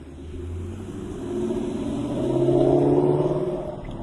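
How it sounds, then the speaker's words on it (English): A Lexus eight-cylinder engine rumbles steadily and swells into a louder rev near the middle, a deep continuous drone with no talk. "That's the sound of an 8-cylinder for sure."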